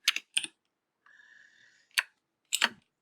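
A few keys tapped on a computer keyboard, two quick clicks, a short soft whir, then two more sharp keystrokes, close and isolated.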